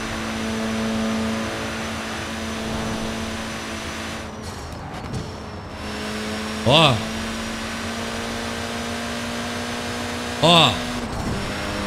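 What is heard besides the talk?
turbo Honda Civic Si engine roaring, Forza Horizon 4 video game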